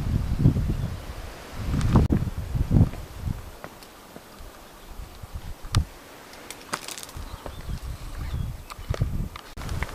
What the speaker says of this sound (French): le vent s'élève